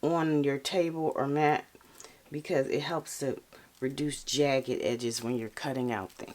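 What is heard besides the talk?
No everyday noise stands out behind the speech.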